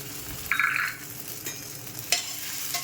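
Turmeric tossed into hot oil where idli pieces are frying gives a brief bright sizzling burst, followed by a few scattered scrapes and clicks against the pan.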